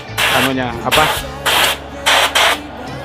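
An Auarita K350 LVMP spray gun gives repeated loud, hissing bursts of air, each lasting roughly half a second with short pauses between, close up and alone.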